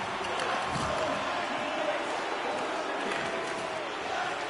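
Distant, continuous crowd noise from a home arena crowd jeering in the NHL 25 hockey game, a broad wash of voices at low level without clear peaks.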